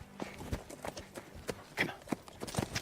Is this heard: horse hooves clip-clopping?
yes